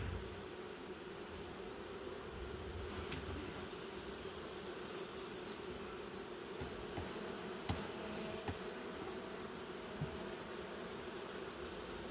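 A dense, steady buzz of many honey bees from a swarm being shaken into a hive hums continuously, with a few faint bumps and clicks nearby.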